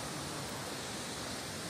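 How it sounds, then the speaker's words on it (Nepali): Steady rain falls as a dense, even hiss, faint and constant throughout without breaks. "पानी परिरहेछ"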